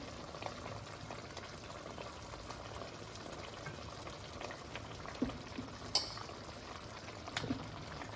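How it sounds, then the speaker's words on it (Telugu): Fish curry made with onion paste, fried fish pieces and green chillies simmering in a pot, giving a continuous low bubbling and faint sizzle close by, with a few light utensil knocks and no talk. "ఫిష్ ముక్కలతో పాటు పచ్చిమిర్చి కూడా పూర్తిగా ఉడికిపోతాయండి"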